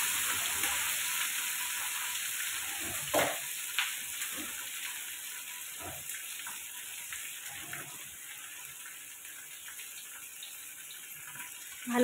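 Spices and ingredients frying in a pan during home cooking of a Bengali lunch, a soft continuous sizzle with a few light clicks and stirring knocks, fairly faint and steady throughout.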